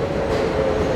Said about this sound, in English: Subway is loud.